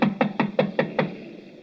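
Six evenly spaced knocks on large glass doors in an old wartime radio drama, sharp and fairly close, rapping about five times a second before fading into quiet room tone.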